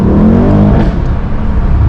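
A Mercedes E63 S AMG engine roars loudly up to speed from inside the car, a strong rising drone that settles into a rougher growl, with no voices.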